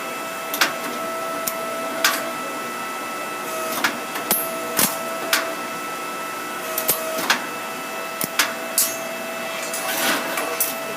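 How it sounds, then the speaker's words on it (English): WBT configurator machine cutting wire cable tray sections, giving a series of sharp, separate snapping clicks spaced irregularly over a low steady mechanical hum. "it cuts the tray versus the traditional way of using bolt cutters"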